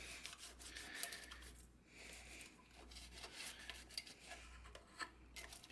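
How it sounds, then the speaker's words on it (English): A dryer sheet is rubbed over the plastic pickguard of a Hentor Sportscaster guitar, giving faint, close, irregular scratchy rubbing strokes with soft rustles and small taps, and no voices. "I'm going to rub the underside of the pickguard"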